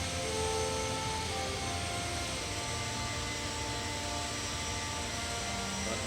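Jet engines of an Airbus A319-112 spool up in X-Plane 12 as the airliner lines up on the runway at KPGD, a steady broadband roar with faint tonal whine, even and moderately loud throughout.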